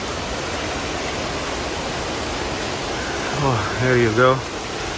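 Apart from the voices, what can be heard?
Ponmudi waterfall in Kerala, India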